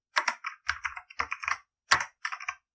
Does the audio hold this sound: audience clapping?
no